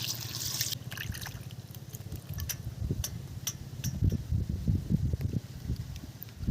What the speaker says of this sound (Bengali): ভালো করে একটু ধুয়ে নেব।